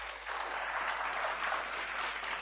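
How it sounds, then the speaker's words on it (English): A conference audience claps for the organizers at an artificial intelligence and robotic process automation event; the applause is faint and distant, a soft, even wash of many hands over a short stretch. "Can we have a big round of applause for the organizers?"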